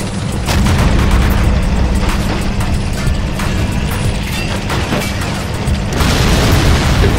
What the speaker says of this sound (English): He's firing AP shells as well.